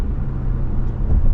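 Steady low road rumble from inside a 2024 Toyota RAV4 XSE Prime plug-in hybrid SUV cruising smoothly, loud and continuous with no talking.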